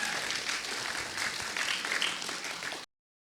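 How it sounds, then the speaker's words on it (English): Film festival audience applauding after a shorts screening, a moderately loud, even wash of clapping that holds steady and then cuts off abruptly. "Come on, one more round of applause."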